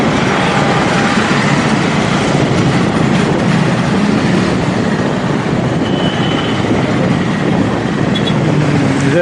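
A train rolls past a railway station just below an overbridge, giving a steady, dense rumble with rattling wagons throughout, with no talking.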